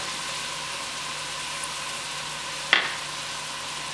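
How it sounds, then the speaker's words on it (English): Oil sizzling steadily in a pan while sautéing for a fish stew, a continuous close frying hiss with one brief clatter partway through and no talking. "I'm gonna add just a little pinch more oil because we actually want to saute it"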